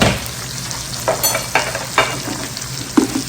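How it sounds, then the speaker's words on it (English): Flour stirred into sizzling onions and peppers in oil to make a roux gives a close, steady frying hiss broken by three or four scraping stir strokes at regular intervals. "add 4 tablespoons of that flour to my onions and peppers"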